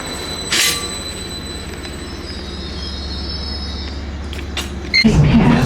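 A passenger train runs on the Reedham to Great Yarmouth line, its steady low rumble and clatter joined by high wheel squeals and creaks, growing louder and rougher near the end.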